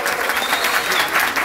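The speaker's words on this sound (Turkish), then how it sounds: "Alkışları görelim." Wedding guests at a lively Black Sea-style celebration break into loud, sustained applause, dense clapping filling the room steadily without a pause and no talk rising above it.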